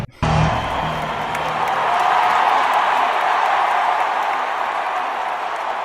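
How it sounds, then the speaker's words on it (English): A large concert crowd at a show, where the opening DJ set was cut off. A brief burst of music stops abruptly and a loud, sustained roar of cheering and whooping follows, filling the rest of the clip. "the crowd cheered when the sound guy cut the music"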